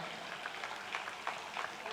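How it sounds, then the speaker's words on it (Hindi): A crowd at an AIMIM political rally claps for the speaker, a dense, steady patter of hands that swells in a few small bursts over roughly two seconds. "एक मरतबा अपने लिए तालियां बजाइए ताकि मुझे लगे कि आप सुनने की मिजाज में गए।"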